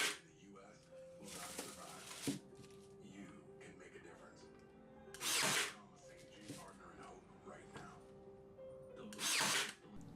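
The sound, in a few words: sanding the sides of a cedar box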